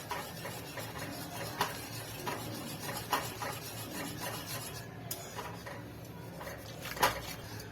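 Gram flour batter for pithla stirred in a pan over low heat, giving a soft continuous scraping and rubbing with light utensil taps against the metal, steady and close with no talk.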